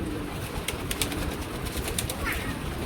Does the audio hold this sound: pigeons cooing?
yes